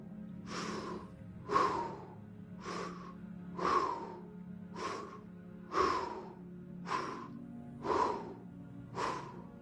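Rapid, deep breaths in and out during a superventilation breathwork exercise repeat in a steady rhythm of about eight forceful, close gasping cycles, with no talking.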